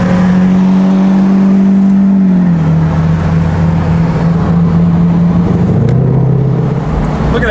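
A Lamborghini Aventador engine revs loud and close during a downtown rally, a steady deep drone that drops in pitch and then holds.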